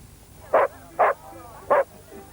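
Three sharp, loud barks from a mongrel dog at an outdoor dog show come close together, separated by short pauses, over faint background noise.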